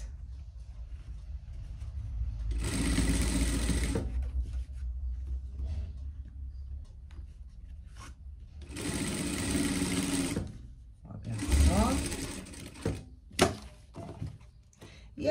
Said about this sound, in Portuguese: Aí, a gente vira aqui e segue essa costura aqui, que é a nossa costura de galoneira